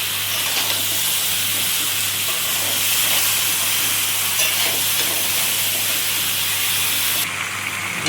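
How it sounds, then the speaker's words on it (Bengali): Mango pieces for pickle are stirred and fried in oil, a continuous close hiss and sizzle with faint scraping, steady throughout and without talk. "দেখো এই আমটা আমি তেলে নেড়ে নিলাম।"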